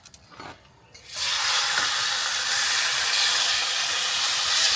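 Food placed on a hot cooking surface starts to cook: after a second of quiet handling, a steady, loud hiss and sizzle begins abruptly and holds evenly to the end, with nothing spoken.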